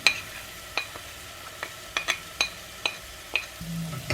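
Fennel and ajwain powder dry-roasted in a pan, heard as sparse, scattered scrapes and light clinks of a spoon against metal with a faint sizzle, quiet and close, no voices.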